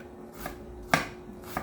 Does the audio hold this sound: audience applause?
no